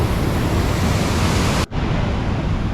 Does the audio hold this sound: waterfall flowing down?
yes